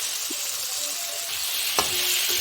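Okra (bhindi) hisses steadily in a pan alongside katla fish curry, a loud, close, even sizzle with a brief clatter near the end and no voices.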